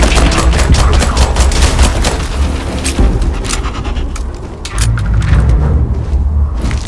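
Rapid bursts of gunfire in the space game Starfield crackle loud and close, dense repeated shots with a brief lull before resuming, with no talk.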